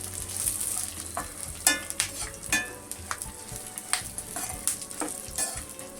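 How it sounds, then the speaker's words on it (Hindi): Cashews, almonds, chironji and melon seeds dry-roasting in a pan for chane ke laddu, a light sizzle with frequent sharp spatula scrapes and clinks against the pan, close and without talk. "काजू बादाम भून गए हैं"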